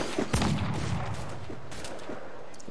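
A few sharp gunshots crack at the start of a fight with enemy crew in Assassin's Creed 4 Black Flag, followed by scattered fainter shots fading into a muffled rumble.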